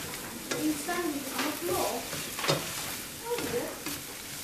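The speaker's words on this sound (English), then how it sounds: "So there they are in the pan. Give them a good old stir around." Vegetables for a Chinese veggie noodle soup with tofu stirred around a hot pan, with a steady sizzle and frying crackle under bursts of scraping from the stirring utensil, close and continuous.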